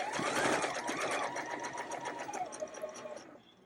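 Wedding dress fabric sewn along a half-inch seam on a sewing machine, with a fast, steady mechanical whirr and needle rattle that slows and stops after a few seconds, close and loud.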